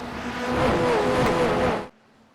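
FF1600 race cars at Circuit Gilles Villeneuve in the iRacing video game, engines droning loudly in a packed group before cutting off abruptly into near silence.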